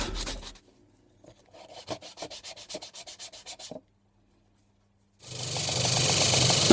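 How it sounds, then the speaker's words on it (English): Sandpaper rubs the end of a wooden toy truck chassis to round over its edges, giving a quick run of evenly spaced scraping strokes, then a pause before a louder continuous rough sanding noise takes over. "Now, sanding includes putting a round over on the end of the chassis where the tow hook goes."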